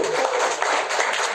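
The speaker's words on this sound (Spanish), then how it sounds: "Démosle un fuerte aplauso." Dense, steady applause from an audience at a political rally in Tlaxcala, a continuous wash of many hands clapping, fairly close and loud, with no speech over it.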